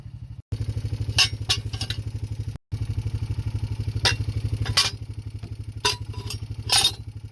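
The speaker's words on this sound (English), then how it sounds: "put them on the four-wheeler, and run them out where they need to go" A four-wheeler ATV engine putters at close range with a fast steady thump, briefly cutting out twice early on, while clattering knocks and rattles sound over it; no talk.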